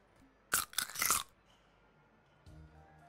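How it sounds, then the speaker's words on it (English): Jawbreaker candy being bitten and crunched: a sharp, loud burst of crunching near the mouth lasting under a second, followed by quiet and a softer chew at the end. "Some crunchy jawbreakers."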